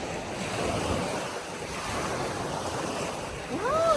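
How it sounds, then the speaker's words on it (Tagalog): Strong ocean waves break at a beach in a steady, loud roar of surf with wind buffeting the microphone. The wash swells toward the end, and no one speaks. "Uy, ang lakas ng alon!"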